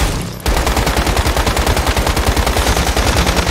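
Rapid automatic gunfire from the survival shooter Once Human starts abruptly and then runs as a steady, loud, evenly spaced stream of shots, with no talking.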